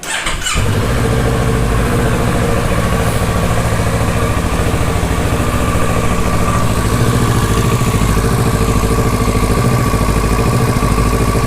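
A Kawasaki Ninja Z650 motorcycle engine cranks and catches, then settles into a loud, close, steady idle that runs evenly for about ten seconds with a slight whine over the low rumble.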